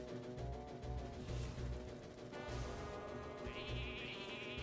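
A sheep bleats from the Hearthstone card game as a minion is polymorphed into a sheep, a short electronic bleat rising over busy game music and effects.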